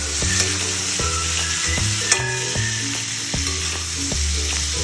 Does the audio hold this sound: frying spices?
yes